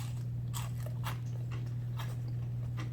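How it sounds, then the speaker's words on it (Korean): Crisp crunchy bites and chewing of homemade green onion sweet and sour pork with a batter of egg white and sweet potato starch, several sharp crunches at a steady rhythm over a constant low hum. "제가 살짝 한번 씹어볼게요"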